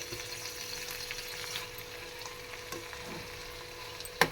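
Eggs fry in a pan for egg curry with a soft, continuous sizzle and faint stirring scrapes, close but quiet, ending with one sharp clink and no talking.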